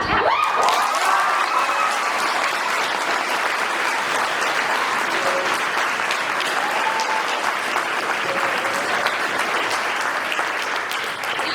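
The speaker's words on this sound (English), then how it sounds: "You can clap." A large crowd claps steadily and loudly for several seconds, a dense continuous wash of applause with no voices above it.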